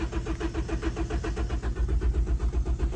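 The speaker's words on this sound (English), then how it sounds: "So with the car in first gear and cranking that starter motor" A Ford car crawls along in first gear driven only by its cranking starter motor, giving a steady, rapidly pulsing mechanical whir with a low rumble that holds loud and even throughout, with no talking.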